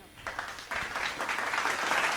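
An audience at a Hindi love-poetry kavi sammelan breaks into moderate applause that swells and stays steady, with scattered claps.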